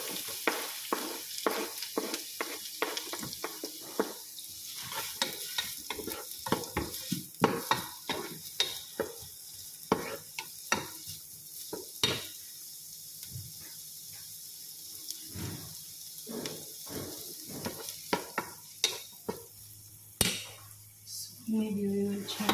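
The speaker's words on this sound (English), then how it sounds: "So first we will put the onion." Onion fries in a pan for black rice and salmon, with a steady sizzle and a brisk, repeated rhythm of spatula scrapes and taps from close by, softer moments between bursts of stirring.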